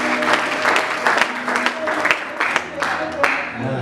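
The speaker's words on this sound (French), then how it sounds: "Acclamez pour Jésus" A church congregation claps and cheers for Jesus, loud irregular applause with sharp overlapping claps and crowd voices mixed in, close and lively throughout.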